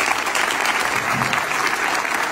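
A crowd at a political association launch in a hall breaks into sustained, dense applause, loud and close, with clapping filling the whole moment.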